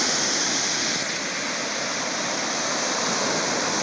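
Surf rolling onto the beach at Gokarna as a continuous, loud broadband wash of breaking waves, steady throughout with no distinct individual crashes and no voices.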